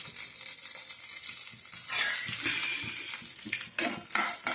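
Cumin seeds, dried red chillies and small onions for tempering crackle in hot oil, a soft hiss that swells into a louder, spattering sizzle partway through.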